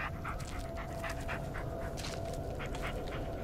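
A dog panting steadily with quick rhythmic breaths, close and fairly loud over a dense ambient game soundscape from the Blair Witch video game.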